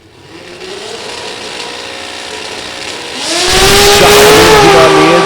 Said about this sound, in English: So Glenn Treadwell, the 6-cylinder power plant out of the late model Chevrolet Trailblazer type combination.